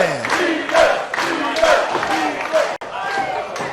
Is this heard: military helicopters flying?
no